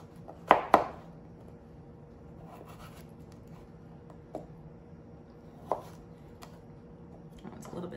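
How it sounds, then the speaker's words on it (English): A knife cuts a beet into wedges on a cutting board: two sharp close chops at the start, then a few sparse, softer knocks against the board in a quiet room. "I'm gonna place it on the flat surface, and then we're gonna cut little wedges"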